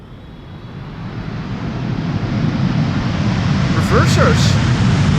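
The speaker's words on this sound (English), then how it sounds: "we are now looking at KLM flight 758 arriving from Panama City" A KLM Boeing 777-300 airliner arrives on runway 18R at Amsterdam Schiphol, a broad engine roar swelling steadily louder as it nears, with a brief higher whine near the end.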